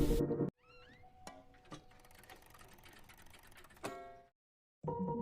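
Several cats fight over food in a trash can at night, giving wavering yowls and sharp clattering knocks between bursts of a louder sound, fairly faint overall.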